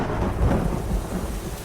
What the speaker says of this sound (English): The next crack of thunder was so loud I felt it in my chest.